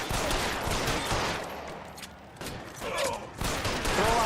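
Gunfire rings out in a shootout in the video game L.A. Noire, with repeated overlapping shots forming a dense fusillade over a few seconds and brief lulls between bursts.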